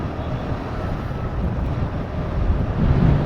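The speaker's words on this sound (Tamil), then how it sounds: "காற்று செம்மையாக அடிக்குது." Strong wind buffets a motorbike rider on an open road, a steady, loud roaring rush that fills the whole stretch without pause or speech.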